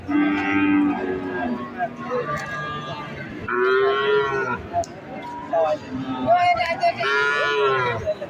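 Calves, Sahiwal and local breeds, moo loudly and repeatedly nearby at a cattle market, long drawn-out calls overlapping one another, with faint crowd chatter in the background.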